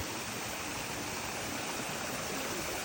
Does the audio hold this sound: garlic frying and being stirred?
no